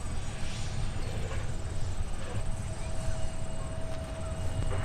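Steady broadband engine roar of an airliner landing on runway 30 left at Minneapolis–Saint Paul airport, a continuous loud rumble with a faint high whine running through it and no voices.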